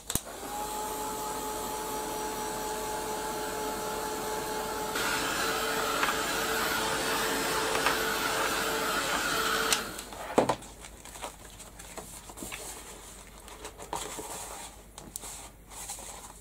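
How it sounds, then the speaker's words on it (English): A heat gun blows hot air over a mixed media craft project, a loud steady whine for about ten seconds that cuts off with a click, leaving faint handling noises. "I'm going to give that a quick blast with the heat gun."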